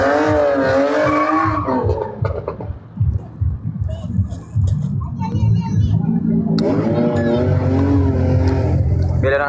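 Car drifting at a drift event, a loud continuous engine roar with rising and falling revs dominating throughout, with people talking nearby over it.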